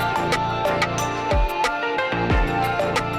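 A full electronic-style music drop with Rhodes electric piano, drums, synth, guitar and piano all playing together, dense and loud with steady beats and sustained chords throughout.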